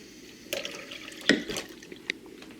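Water splashing and trickling into a Magic Bullet blender container, a few short pours and drips with sharper splashes around the middle, close and fairly quiet.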